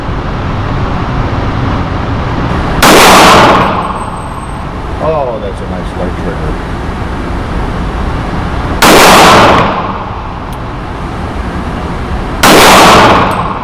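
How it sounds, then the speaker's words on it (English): Three loud, sharp shots from a Dan Wesson Pointman Carry pistol at an outdoor range at 15 yards, widely spaced several seconds apart over steady background noise. "We're going to put the first shots through it, like we usually do, at 15 yards."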